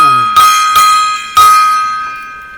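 A ringing metallic gong-like sound effect strikes three times in quick succession, each hit decaying with a bright sustained tone, loud and close with no talk.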